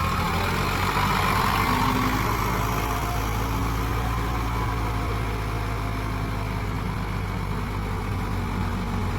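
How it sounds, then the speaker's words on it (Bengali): An Eicher 557 four-wheel-drive tractor strains to pull a paddy-loaded trolley through soft soil while its wheels sink and slip. The heavy engine drones loud and steady throughout, with a deep rumble and no pauses. "ধান ভর্তি ট্রলিতে ওজন বেশি থাকায় নরম মাটিতে ট্র্যাক্টর চাকা বারবার বসে যাচ্ছে"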